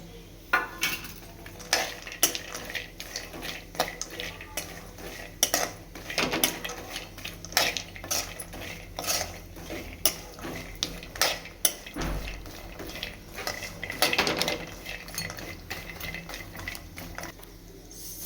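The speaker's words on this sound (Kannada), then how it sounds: "ಸಿಮ್ಮಲ್ಲಿ ಇಟ್ಕೊಂಡು ಸ್ವಲ್ಪ ಚೆನ್ನಾಗಿ ಫ್ರೈ ಮಾಡ್ಕೋಬೇಕು." Dry coconut and cashews being fried and stirred in a pan for a dry fruits laddu, with repeated scraping and clinking of a spoon against the metal pan and a faint sizzle, close and steady.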